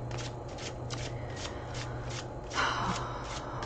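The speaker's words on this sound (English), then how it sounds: "when I read tarot, I also shuffle, ask the question, draw the card" A deck of tarot cards being shuffled by hand, a steady run of papery riffles and soft slaps close by, with a brighter burst of card flutter near the end and no talking.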